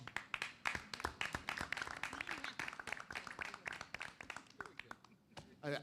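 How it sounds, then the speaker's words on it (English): Faint audience applause at an economic development council meeting: a quick patter of claps that runs steadily under a speaker's voice. "since I got applause for that statement"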